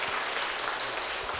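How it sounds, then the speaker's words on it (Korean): Large audience at a Catholic religious community's feast-day lecture bursts into steady, dense clapping, a continuous wash of hands filling the hall without pause. "감사의 큰 박수로 맞이하겠습니다."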